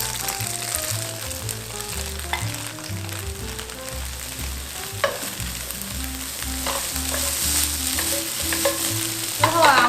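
Ginger, eggplant and shiitake mushrooms stir-fried until golden, a dense crackling sizzle with occasional spatula knocks beneath steady background music.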